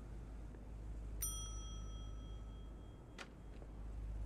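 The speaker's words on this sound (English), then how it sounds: "Ring the bell, I guess." Motel front desk bell struck once in The Wolf Among Us video game: a bright metallic ding that rings out and decays for about two seconds over steady low room hum, followed by a brief faint click.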